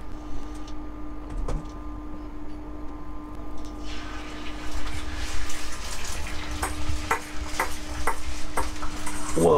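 Beaten egg scrambled in a frying pan, with a spatula scraping and stirring against the pan over a growing sizzle that gets louder in the second half, with a few sharp clicks and taps.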